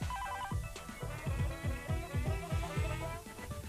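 A telephone rings with a rapid, bright electronic warble. The burst repeats steadily for several seconds with no talking.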